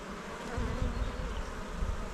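Honeybees drone loudly and continuously around an open hive frame at an apiary, a dense close-up buzz that swells and fades as individual bees fly past.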